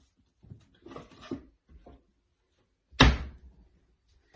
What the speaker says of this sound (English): if I can get this door open